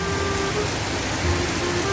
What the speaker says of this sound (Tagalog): Oh, kusog kayong ulan.